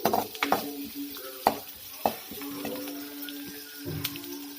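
Cumin frying briefly in a little oil in a pan for a bassaru and palya dish, a soft steady sizzle broken by scraping stirs and sharp spoon knocks against the pan, close up, with no talking.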